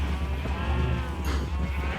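Sheep in an overfull pen in Minecraft survival: a short wavering bleat rises over a dense, steady low hum, with a faint brighter scrape near the end.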